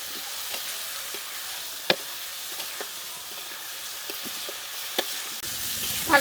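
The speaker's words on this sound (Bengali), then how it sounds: "এখন ভেজে নেওয়া আলুগুলো দিয়ে আর একবার কষিয়ে নেবো" Fried potatoes stirred and sautéed in spice paste for shol fish curry, a soft steady sizzle with scattered spoon taps and scrapes against the pan, one sharper knock midway and another at the end, no talk.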